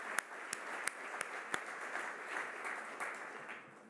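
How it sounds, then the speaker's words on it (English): Warm applause from a gala audience at an awards dinner, a steady wash of clapping with a few sharp, distinct claps near the start, fading toward the end. "it's very nice to give her a warm round of applause in person this evening"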